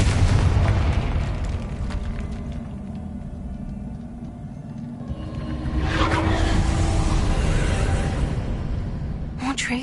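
A Confringo fire spell detonates in Hogwarts Legacy with a loud, rumbling boom and crackling burst, set over a continuous low game drone, and a second swell of blast noise follows partway through.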